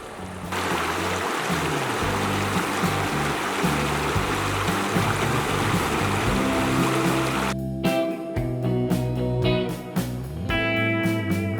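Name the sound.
river flowing near a campsite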